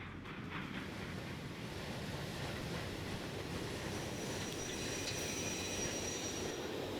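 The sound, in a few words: steam train running, from the video game Transport Fever 2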